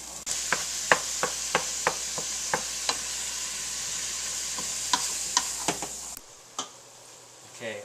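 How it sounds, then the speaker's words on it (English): Ground meat browning in a pan for bolognese gives a steady close sizzle, broken by regular light taps of a utensil stirring, then quiets near the end. "our meat is browned now"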